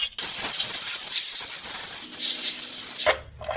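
A compressed air nozzle blows a loud, steady hissing blast for about three seconds during a Land Rover Discovery 3 oil pump repair, then cuts off abruptly, leaving a low hum.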